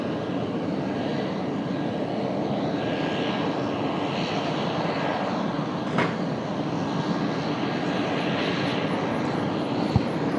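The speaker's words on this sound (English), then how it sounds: "Got an A321 lining up for departure." An Airbus A321 lining up for departure at an airport gives off a steady, broadband engine rumble and whine that holds at moderate level throughout, with one brief clunk near the end and no talking.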